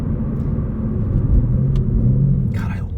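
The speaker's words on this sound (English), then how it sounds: "Got to try a launch control." A 2024 BMW M3 CS launches hard under launch control at night, its engine giving a deep, loud rumbling surge heard from inside the car, with a brief sharper burst near the end.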